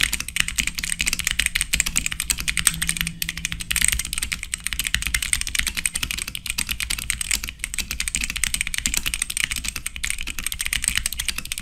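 Fast, continuous clicking of keys on a G-Lab Keyz Thallium RGB mechanical keyboard, close and crisp, with no voices.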